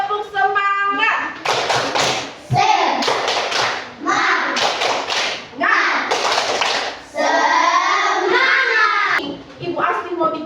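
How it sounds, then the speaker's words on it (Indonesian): A classroom group of children claps a quick rhythmic spirit-clap pattern, loud and close, in bursts of patterned claps with short pauses, with voices calling and chanting between the clap sequences. "kita tepuk semangat dulu."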